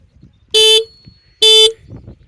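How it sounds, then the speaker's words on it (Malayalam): Two sharp, loud horn beeps from a Suzuki V-Strom SX 250 motorcycle a moment apart, each about a quarter second long, with quiet background between. "ഷാർപ്പ് ഹോൺ തന്നെയാണ് വരുന്നത്"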